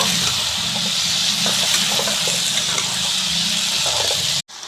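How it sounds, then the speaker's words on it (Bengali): Water from boiled kidney beans (rajma) poured off and splashing down, a steady close gush running for several seconds alone before cutting off abruptly. "আর উপর থেকে জলটা ফেলে দেবো।"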